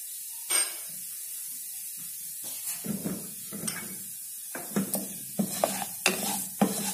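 Barley dry-roasts in a pan for porridge, with a soft sizzle under intermittent spatula scrapes that come in uneven bursts and grow busier toward the end. No one talks.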